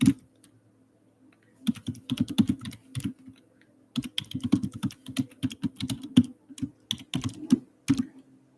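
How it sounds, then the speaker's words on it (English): Bursts of close typing on a computer keyboard come in several quick clusters of clicking keys with short pauses between them, in a quiet room. "I don't know why I can't type today."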